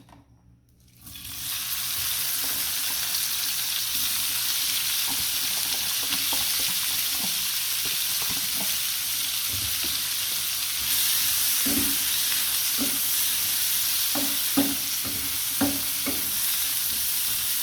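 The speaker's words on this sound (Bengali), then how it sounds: "পেঁয়াজ ভাজা হয়ে গেছে" Sliced onions and green chillies frying in hot oil, a steady close sizzle that starts after a brief quiet moment, with scattered scraping stirs of a spatula along the pan.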